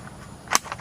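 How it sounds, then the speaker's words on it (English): A single sharp report from a Carcano 91/24 rifle in 6.5 mm, one brief crack standing out from quiet surroundings. "Let's see if she fires this time. We have detonation."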